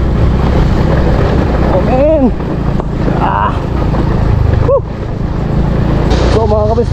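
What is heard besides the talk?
motorcycle rattling on rough downhill road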